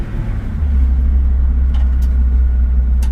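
Acura RSX engine with paddle shifters holding high RPM, a steady loud low drone and rumble that settles into a constant pitch with no shift heard.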